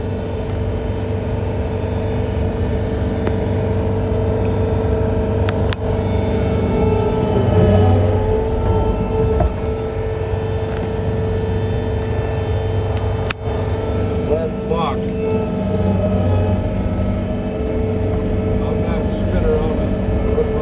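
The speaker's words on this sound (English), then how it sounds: "I'm in the John Deere 317 skid loader with the snow blower on trying to clear some snow" John Deere 317 skid loader running with a snow blower attachment while clearing snow, a steady loud engine drone with low rumble and a few brief knocks, heard from inside the cab throughout.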